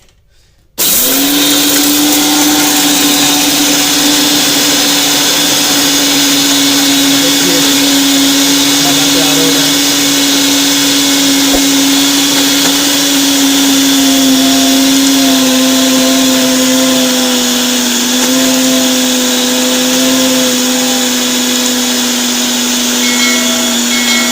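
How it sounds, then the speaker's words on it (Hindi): An electric grinder whirs loudly and continuously after a sudden start, pulverizing garam masala spices with a steady high motor whine that barely changes pitch for over twenty seconds. "सब चीज़ें अभी मिक्स कर दी इसमें और अभी इसको ग्राइंड करेंगे।"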